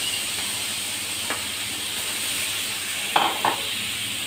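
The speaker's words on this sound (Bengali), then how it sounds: "পেঁয়াজ কুচি দিয়ে দিলাম তেলের ভিতরে" Chopped onion with green chilies fries in hot oil, giving a steady soft hiss and sizzle with a few brief clinks of stirring near the end.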